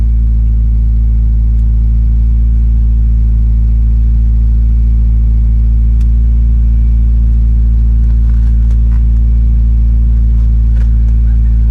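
A 1989-1997 Mazda Miata MX-5 that had sat unused for a while idles steadily just after starting, a loud, even low rumble holding unchanged throughout.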